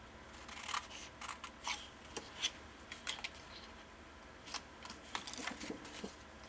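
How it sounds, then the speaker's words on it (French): Scissors snip paper squares for a scrapbooking travel album, a series of quick, crisp, close cuts in irregular bursts, fairly quiet with no talking. "Là, on va couper encore tous les carrés qui restent."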